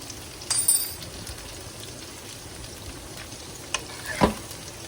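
French beans with soy sauce are stirred in a hot pan, giving a soft continuous sizzle with a few brief clinks and scrapes of the utensil against the pan.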